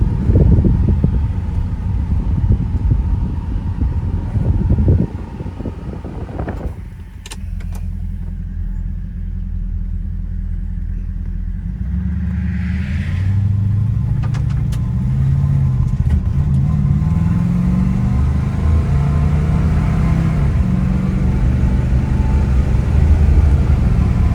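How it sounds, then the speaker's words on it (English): A 1973 Buick Riviera Boattail with a 455 V8 and 45K miles cruises toward 65 mph on an Iowa road: a steady, loud interior engine rumble with wind noise and a gear change partway through. "Car runs good down the road."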